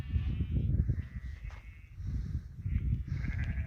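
Sheep bleat faintly in the background of a flock migrating from Erzurum to Iğdır, Turkey, over a steady low rumble of wind or handling noise, with a few scattered calls rising and falling.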